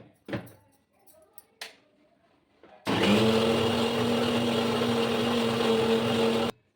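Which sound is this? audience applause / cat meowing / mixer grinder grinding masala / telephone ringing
mixer grinder grinding masala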